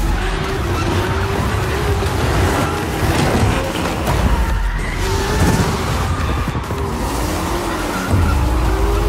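Cars drift at a drift race, with loud, dense engine roar and screeching tires that keep whining and sliding in pitch throughout, busy and close with no talk.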